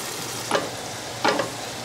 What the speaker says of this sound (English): I'm going to fry the garlic and onions